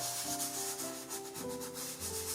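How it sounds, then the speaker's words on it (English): Pieces of coloured chalk rubbed against each other over painted stones during rock art, a steady dry scraping that runs continuously and close, with no talk. "And really enjoy rubbing the chalks together."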